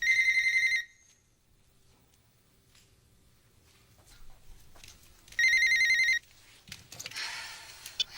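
Telephone ringing on an outgoing call, two loud electronic ring bursts about five seconds apart with quiet pauses between, then faint rustling.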